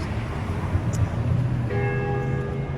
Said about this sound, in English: right down the street, you hear the bell coming from that building, which is another old world building